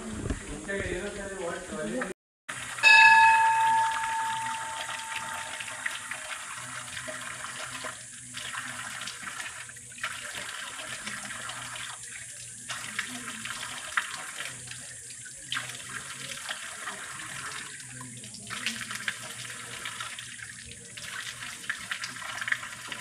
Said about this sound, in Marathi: हातपाय धुण्यासाठी 12ही महिने पाणी येणारं एक गोमुख आहे